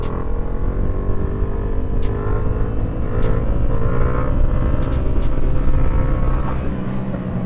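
A stunt motorcycle engine roars steadily through a wheelie, loud and close, with a sustained drone and repeated sharp revving spikes over the full stretch.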